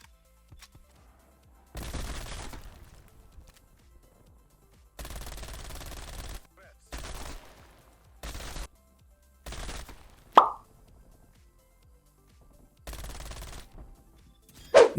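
MAC-10 submachine gun fire in Call of Duty: Black Ops Cold War with no-recoil iron sights: several sustained automatic bursts, loud and close, separated by quiet gaps, with a couple of sharp single impacts.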